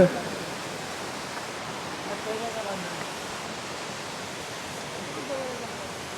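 Ghavarkarni waterfall, a hidden cascade, gives a constant broadband rush of falling water that stays steady and fills the whole scene, with no voices over it.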